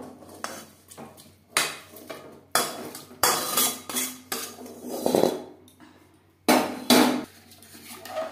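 Fried potatoes being stirred into mutton curry in a cooking pot, with a series of metal spoon knocks and scrapes against the pot coming at an uneven rhythm, close and fairly loud, with no talking.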